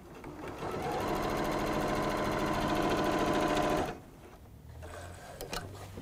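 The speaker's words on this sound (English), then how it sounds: "I'm going to simply sew it along there along those raw edges" A sewing machine stitches a fabric panel along its raw edges, whirring in a fast, steady mechanical rattle for about four seconds before stopping, leaving a few light clicks and handling noises.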